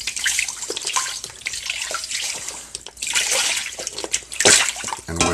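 Hands swish and splash through holy water mixed with sea salt, a close wet churning with drips and splatters that stays steady, then gets louder near the end, with no speech.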